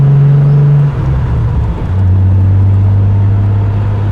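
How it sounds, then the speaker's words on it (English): A 1973 Triumph TR6 engine drones loud and close from inside the car, its pitch dropping as it shifts down into second and then holding a steady low hum. "Go down into second. Without double clutching, it shifts very smoothly."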